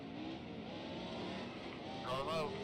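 A NASCAR race car engine in a racing video game at Martinsville shifts down, a faint continuous motor drone with a brief rising whine near the end.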